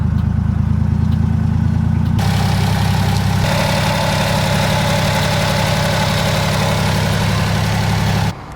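A Honda Acty small truck engine runs steadily at a loud, close idle after a distributor cap, rotor and seal replacement, a low rumble with a rhythmic knock that rises slightly in pitch partway through, then cuts near the end.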